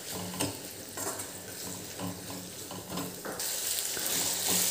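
Tomatoes roast and sizzle in a pan for aloo bhaji, a steady frying hiss with light stirring scrapes, close and continuous, no speech.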